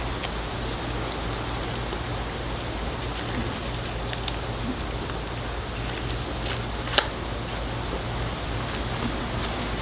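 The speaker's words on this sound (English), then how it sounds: "And it's raining." Steady rain falls outdoors in summer, a continuous even hiss of drops with no voices and one faint tap partway through.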